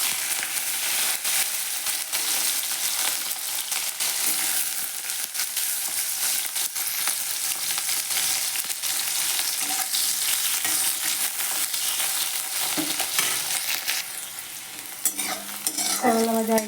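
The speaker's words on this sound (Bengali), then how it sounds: "এরপর করলা ভেজে নিচ্ছি।" Bitter gourd pieces fry in hot oil in a pan, giving a steady, close sizzle with frequent stirring scrapes and a few clinks near the end.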